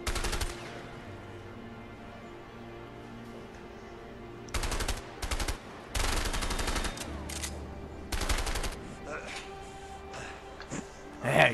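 Gunfire from guns in the video game A Way Out: several bursts of rapid automatic fire, close and sharp, separated by quieter stretches with soft background game noise.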